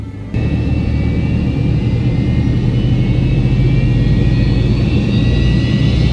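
Airliner engines run up to maximum power on the runway before takeoff, a loud, steady roar that swells in abruptly and holds, heard from inside the cabin with no voices.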